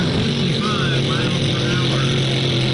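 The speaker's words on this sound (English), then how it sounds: "The sounds and sights of hydroplane boats testing their engines and testing the course drew some attention throughout the afternoon." Hydroplane racing boat engines run on the Ohio River during a HydroFair event in Owensboro, a steady loud motor drone with a constant low hum filling the whole stretch.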